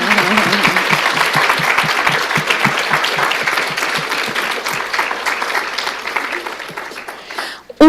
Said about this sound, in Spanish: les pido por favor un aplauso para todas las y los trabajadores sociales de nuestras YAPs